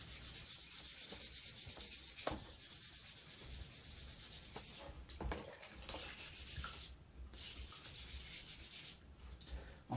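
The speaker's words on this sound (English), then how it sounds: "I'll take a corner of the sandpaper and force it into the bowl and twist it." Sandpaper twisted and rubbed inside a carved soapstone pipe bowl gives a steady, close, gritty scrubbing that runs throughout, with a few brief louder scrapes along the way.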